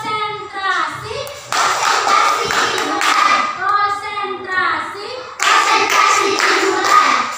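Children play a rhythmic hand-clapping game in a classroom, bursts of steady clapping mixed with their chanting voices, loud and close throughout.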